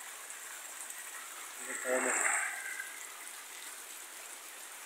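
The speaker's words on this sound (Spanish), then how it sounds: "y ha pasado todo el día lloviendo así" Heavy rain and rushing runoff during a storm in El Salvador make a steady, unbroken hiss, with a voice briefly speaking over it midway.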